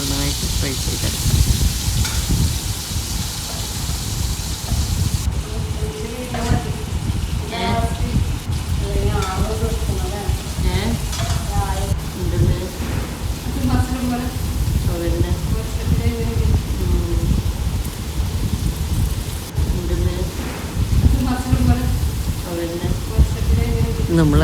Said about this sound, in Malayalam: ഒരു പാൻ ചൂടായാൽ ഓയിൽ ഒഴിച്ചിട്ട് നമുക്കിത് ഓരോന്നോരോന്നായിട്ട് ഫ്രൈ ചെയ്തെടുക്കാം